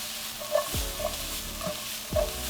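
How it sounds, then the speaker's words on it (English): Onions and peppers sautéing in a pan, a soft steady sizzle under several distinct stirring scrapes and clacks, heard up close with no voices. "in that same pan, we're gonna go in with our onions and peppers. Get those sauteed for about 3 minutes."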